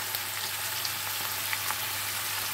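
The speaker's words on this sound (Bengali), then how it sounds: "আর এবার দিয়ে দেবো চিকেনটা, সব একসঙ্গে নিয়ে আমি ফ্রাই করে নেব খানিকটা" Chicken sizzles gently in a pan for chicken gravy, a faint, steady hiss with scattered tiny pops and no voices.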